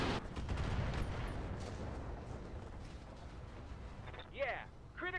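Heavy mech weapons fire in a video game, a dense rumbling barrage of shots and explosions that swells then fades, followed by short electronic voice blips near the end, with a player's voice in the mix.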